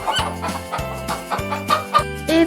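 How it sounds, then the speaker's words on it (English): A chicken clucks in a series of close, clear, repeated calls, short throaty notes in an uneven rhythm with a higher squawk near the end, with no talking. "It's a chicken."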